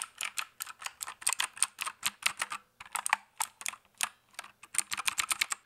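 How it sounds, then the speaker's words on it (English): Fast bursts of keystrokes on a mechanical keyboard, a Logitech MX Keys or Keychron K4, clacking in quick irregular runs with brief pauses, close and crisp with no voices. "Welcome to keyboard ASMR."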